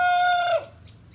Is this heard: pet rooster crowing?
yes